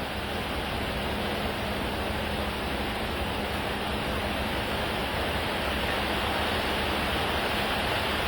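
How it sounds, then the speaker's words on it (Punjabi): Rainwater pours steadily from a rooftop drain spout during a downpour in Seechewal village, Punjab, a continuous loud rushing splash with no breaks and no talking. "ਪਰਨਾਲੀ ਦਾ ਪਾਣੀ ਦੇਖੋ ਕਿੰਨਾ ਆ ਥੱਲੇ"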